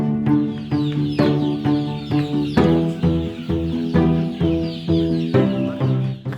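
Sentul chickens, a native West Javan breed on a rural farm, give repeated close, loud clucks and calls in an uneven rhythm, with no talking.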